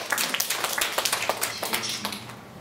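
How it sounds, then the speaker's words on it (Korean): Applause from the women of a church congregation at a Korean revival meeting, a fairly small group clapping in quick, uneven claps that stay steady for a couple of seconds and then taper. "우리 자매님들 박수"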